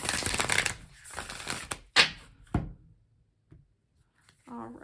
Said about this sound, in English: Do one more shuffle and then we'll